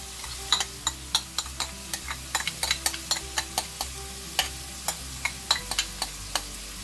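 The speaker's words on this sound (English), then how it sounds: "let this fry" Carrot and celery with salt frying in a pan for Manchow soup, a soft steady sizzle broken by a regular series of sharp ticks and scrapes as the vegetables are stirred, close and without talk.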